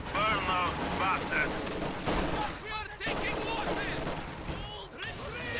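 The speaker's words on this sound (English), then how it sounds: "Maxim setting up at pretty much max range, blasting away at that garrison" A Maxim machine gun fires sustained bursts at a garrison at long range in the video game Company of Heroes 2, amid other battle noise, with a commentator talking throughout.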